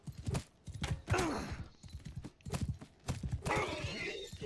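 Horses in the medieval battle game Mount & Blade II: Bannerlord gallop with rapid, rhythmic hoofbeats at close range, with a short whinny and scattered battle noise mixed in.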